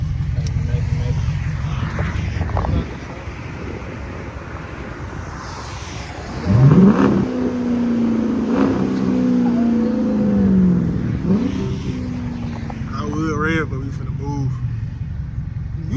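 A second-generation Dodge Charger with a swapped engine revs loudly, its note rising sharply, holding high for several seconds, then falling back to a rumbling idle, with quieter engine and road noise around it.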